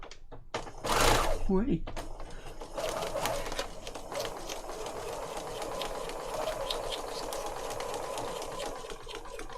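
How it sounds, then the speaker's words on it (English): A sewing machine stitches through paper with coral thread while making a junk journal, running steadily after a brief spoken word and a sharp handling noise at the start, with a voice speaking briefly over it. "I'm going to sew this bit."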